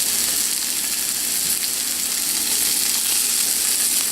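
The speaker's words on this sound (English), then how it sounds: "Onion and garlic go in." Onion and garlic fry in a generous pool of extra virgin olive oil, giving a steady, close, broadband sizzle that holds evenly throughout with no talking.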